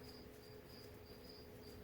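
Crickets chirping steadily outdoors in a quiet rural yard, a faint, continuous high trill repeating in short pulses over low background hum.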